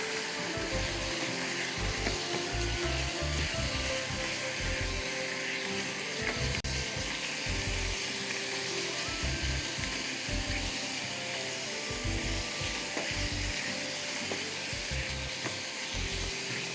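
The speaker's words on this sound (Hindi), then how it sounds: "अच्छी तरह इसको भूनिए" Beef mince cooked with masala spice mix fries in a pan, giving a steady, dense sizzle that continues without a break and without any voices.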